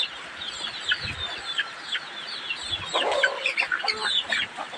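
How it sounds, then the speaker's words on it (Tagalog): Chickens cluck and chatter, several birds calling in quick overlapping bursts at close range, fairly loud, with no talking. "Maganda ng manok dito ng papa ko."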